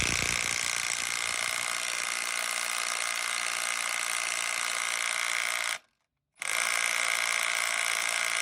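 A high mass socket and ratchet working on the crankshaft balancer bolt of a 2007 Saturn Vue V6 with a Honda 3.5 engine. A loud, continuous hammering mechanical whir runs throughout, cut by one brief silent gap.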